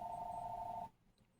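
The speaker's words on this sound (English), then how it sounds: "The phone's ringing." A landline telephone rings with a steady, bright electronic tone for just under a second, then cuts off into quiet room noise.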